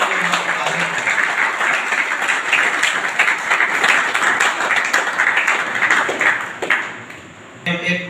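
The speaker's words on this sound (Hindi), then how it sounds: "हम जोरदार तालियां बजाकर हमारे" An audience at a church diocese leaders' training meeting and election breaks into loud, sustained clapping that fills several seconds before tapering off, with some talk around it.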